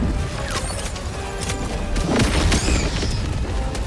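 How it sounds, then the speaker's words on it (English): Orbital strike explosion in Helldivers 2: a loud, dense barrage of crashing booms and debris over continuous battle noise, swelling around the middle and holding heavy to the end. "Requesting orbital strike."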